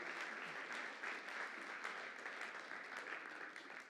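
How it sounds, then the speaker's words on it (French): Soft, continuous applause from a church congregation, honouring involved families, dense and even but faint and distant, tapering slightly at the close. "Ouais, on peut applaudir toutes ces familles qui sont impliquées depuis quelques années"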